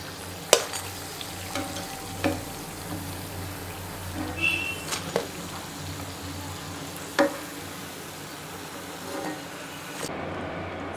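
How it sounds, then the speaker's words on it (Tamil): Aloo tikki potato patties frying in a pan give a steady low sizzle, with occasional clinks and scrapes from a spatula or utensil. No one speaks. "இதை எடுத்துட்டு மிச்சம் இருக்கிறதையும் இந்த மாதிரி ஃப்ரை பண்ணி எடுத்துருவோம்"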